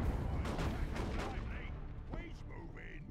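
Shotgun blasts from scouts in a Dawn of War 2: Retribution real-time strategy battle, a cluster of loud booming shots in the first second and a half, followed by a few sharper metallic battle effects.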